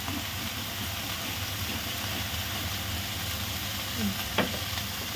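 Cabbage and beans sautéing in a pan, giving a steady close sizzle and hiss with a faint clink near the end.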